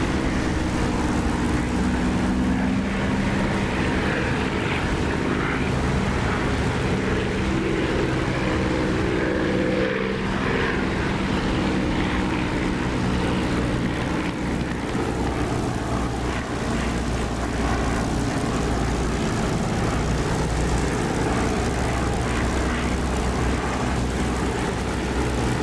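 A propeller aircraft engine drones steadily on approach to land in the DCS flight simulator, loud and continuous with a slight rise in volume near the runway.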